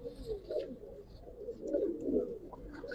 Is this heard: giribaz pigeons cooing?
yes